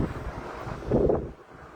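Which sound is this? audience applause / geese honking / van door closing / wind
wind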